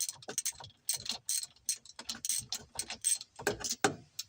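A ratchet wrench clicks in quick, uneven bursts while loosening a spark plug on a 2008 Yamaha Rhino 700 side-by-side, close and crisp with short pauses between strokes.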